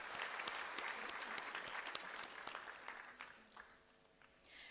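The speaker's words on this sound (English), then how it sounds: "Can we have a big applause for the guests and our deans?" Audience at a university orientation applauds guests and deans, with steady dense clapping from a crowd at moderate distance that slowly thins and fades.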